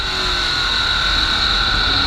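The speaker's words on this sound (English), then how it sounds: "You can really hear him working that throttle." On-board race car engine at the Little 500, a steady loud drone with sustained tonal harmonics as the driver holds and works the throttle, close and continuous throughout.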